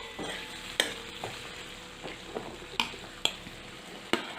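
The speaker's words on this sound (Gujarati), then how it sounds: "પહેલાં ટમેટાં ઉમેરીને આવી રીતે મિક્સ કરી લેવું" Tomatoes being stirred into potatoes cooking in a pan for Kathiyawadi onion-potato curry, with a soft sizzle and several sharp scrapes of a spoon against the metal pan spaced irregularly.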